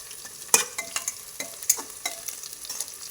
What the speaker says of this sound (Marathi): कांदा परतलेला आहे त्याच्यात कडीपत्ता टाकायचा असं छान हलवायचं